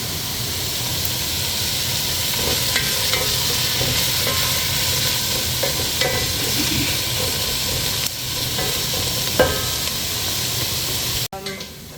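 Onions sizzle and hiss steadily in a hot pan, with occasional stirring scrapes and clinks, close up, until the sound cuts off at the end.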